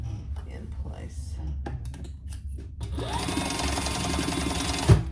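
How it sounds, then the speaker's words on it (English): A sewing machine basts pouch fabric in place, starting up after a few handling clicks into a steady, close mechanical whir with rapid stitching rhythm; a voice talks over the opening. "let's just baste those in place"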